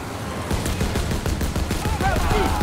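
A jeep-mounted gun firing in Call of Duty: WW2, with steady rapid bursts and a rattling, dense clatter throughout, while voices shout over the shooting.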